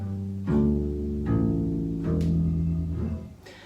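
Four open strings of a double bass plucked by finger one after another, each a deep, resonant note blooming and ringing at steady intervals, loud and close with no talking.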